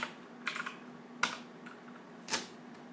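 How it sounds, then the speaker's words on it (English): Computer keyboard typing in short bursts of a few clicking keystrokes, separated by brief pauses, close and fairly quiet. "give me 1 second to type that in"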